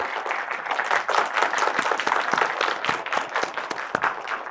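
Audience applause in a lecture hall at a music-composition special lecture, dense steady clapping from many hands continuing throughout, close and fairly loud with scattered sharper claps standing out.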